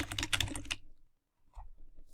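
Rapid keystrokes on a computer keyboard, a close burst of clacking that stops short, then a brief pause and a couple of softer taps.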